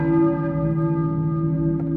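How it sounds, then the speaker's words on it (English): A church bell rings in the Silent Hill game, a steady sustained toll with long humming overtones that fills the whole stretch, loud and close with no talking. "a church bell. Hey, maybe who's ringing the bell?"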